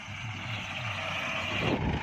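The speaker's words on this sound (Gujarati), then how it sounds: "જો અટાણે કાંકરા વીણવાનું ચાલુ છે." Stone picking machine working a farm field behind a Massey Ferguson 246 tractor, its steady diesel engine drone and mechanical rattle running continuously at moderate distance, with no talk.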